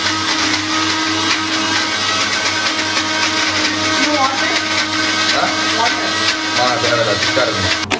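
A mixer grinder grinds masala with a loud, steady motor whir that runs unbroken throughout, with a voice speaking underneath.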